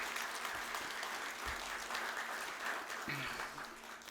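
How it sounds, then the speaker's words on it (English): Audience applause at a business roadshow event in Coimbatore, a steady dense wash of clapping throughout at moderate level with a few faint voices beneath. "I think we should give him a big round of applause for this."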